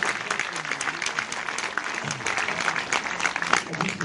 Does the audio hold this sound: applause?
yes